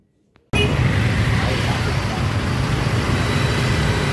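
A steady roar of road traffic, with cars, buses and trucks rumbling past continuously and close by, starts abruptly after a moment of near silence.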